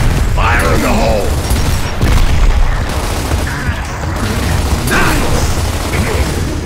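A grenade blast in Gears of War comes as heavy booms and bursts amid battle clatter, loud and close, with shouted voices in between.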